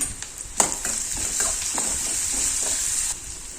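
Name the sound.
mustard seeds and onion frying in hot oil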